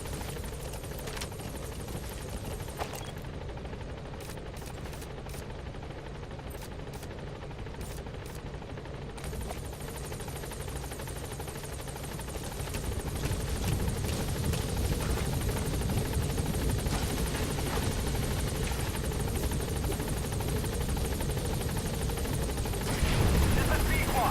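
A support helicopter in Metal Gear Solid V approaches a landing zone, a constant rotor drone that grows louder partway through and stays steady, with radio voices talking over it.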